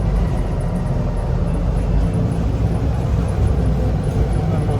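A 1963 Land Rover Series 2A 88-inch on a galvanised chassis drives along with a steady loud engine drone and road rumble from inside the cab.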